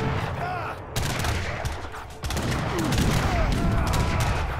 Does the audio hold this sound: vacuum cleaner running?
no